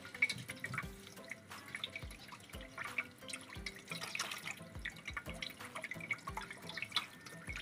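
Tap water runs and drips into a sink as hands and wrists are wetted for handwashing in a clinical skills lab, a steady low splashing with scattered drip sounds, no talking.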